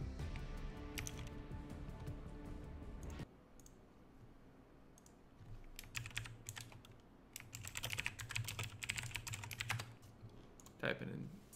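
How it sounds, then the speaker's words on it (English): Rapid bursts of keyboard typing during a Fortnite Battle Royale session, with clicks in irregular clusters; a steady background game tone sits underneath and fades out partway through. "Typing in Steam chat."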